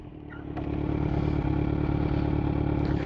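A Kawasaki Z900 motorcycle making a hard front-brake stop from 25 mph, heard as a steady, loud, close engine drone with a brief rise in level near the start.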